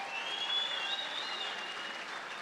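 A crowd at an award event gives a faint, distant round of applause for the founders of Sustainable Coastlines Hawaii, a steady wash of clapping with a tonal hum running through it.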